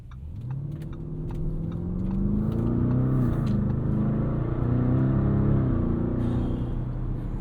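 A 2023 Lamborghini Urus S with a twin-turbo V8 and 8-speed automatic pulls away at part throttle, its engine note rising smoothly through the gears and swelling as it accelerates. The note is close and steady with no voices.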